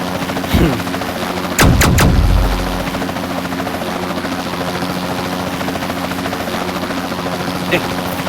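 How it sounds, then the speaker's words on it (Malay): Helicopter flying in a video game, a steady droning rotor hum running throughout, with a few loud sharp bursts near the start and a faint blip later. "Ada helikopter ke tadi?"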